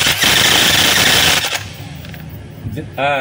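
A faulty DeWalt D25144 rotary hammer drill in hammer mode pounds in rapid, rattling bursts for about a second and a half, then cuts off, leaving faint noise and a brief voice at the end.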